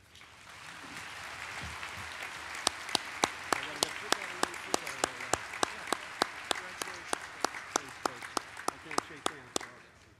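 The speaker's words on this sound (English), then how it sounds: "One more round of applause for Phil Esten, new Hall of Fame member." Applause from an audience at a coaches Hall of Fame ceremony, a steady patter of hands with one loud, close clapper keeping a rhythmic beat, and faint talk underneath.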